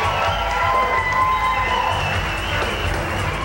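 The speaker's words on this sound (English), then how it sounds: "How about a nice round of applause for Sue and Rick Childs?" Wedding reception guests cheer and clap through a steady, dense crowd roar as the bride's parents are introduced, with music tones and a low bass hum running underneath.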